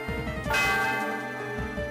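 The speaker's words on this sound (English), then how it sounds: "I rang the bell." The bell atop the Celestial Tower in the video game Pokemon White gives one ringing chime over a looping in-game melody, its bright tone sustaining and slowly decaying.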